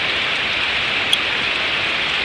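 Heavy rain pours steadily at a catfish farming site, a dense, continuous hiss of drops hitting surfaces, loud and unbroken throughout with one brief sharp tick in the middle.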